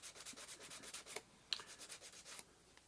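Filler on a DJH G5 model locomotive kit being sanded by hand, a quiet run of quick rhythmic rasping strokes with a few brief pauses and light scrapes.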